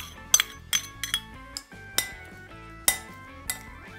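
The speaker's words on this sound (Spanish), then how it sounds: "Vamos a mezclarle el pimentón." Utensils clink against a bowl while bell pepper is mixed into a whole-wheat pasta salad, a string of sharp, ringing metallic taps spaced irregularly and close by, with no talk.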